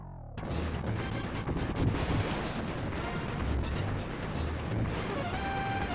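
Anti-aircraft cannons pounding away in a mid-1990s video game, a continuous rumbling barrage of blasts that starts abruptly and stays loud and dense under game music, with no talking.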